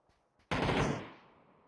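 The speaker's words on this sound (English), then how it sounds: "Still some shots in the direction of Lou." A single loud burst of gunfire in the battle royale game PUBG, sharp onset after a brief quiet lull, then a long decaying echo tail.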